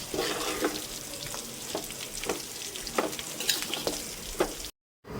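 Ginger, garlic and green chilli paste is stirred with mint and coriander leaves in a hot pan, a close sizzle with regular scraping strokes and a brief silent gap near the end.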